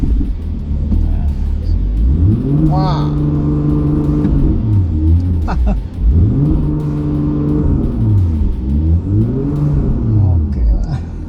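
A BMW M2 sedan engine turns over and revs, heard from inside the car: loud rises and falls in pitch, repeated three times over a steady idle, with a brief voice partway through.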